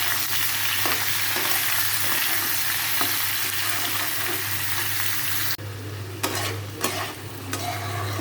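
Bottle gourd dropped into a hot pan with cumin, frying with a loud, steady sizzle that later thins as the pieces are tossed and scraped, a few sharp clatters standing out near the end.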